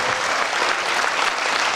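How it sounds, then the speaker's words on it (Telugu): Dense, steady audience applause fills the whole stretch at a yoga festival run by the Rajamahendravaram municipal corporation, a continuous roar of many hands clapping close by with no pauses. "చప్పట్లు కొట్టండి గట్టిగా"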